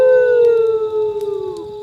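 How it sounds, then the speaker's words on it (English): A single long, wavering howl slides slowly downward, loud and clear against a quiet night, like a wolf's cry. "A deep, bone-chilling cry slices through the night. It's unmistakable. Wolves."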